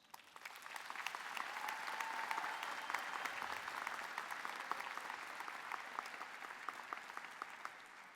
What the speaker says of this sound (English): Graduates, please express your love and gratitude to all these people with a round of applause.